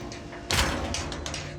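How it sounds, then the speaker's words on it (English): A door in a modern house is pushed shut with one solid thud, followed by a short noisy rumble that fades out. "Close the door down."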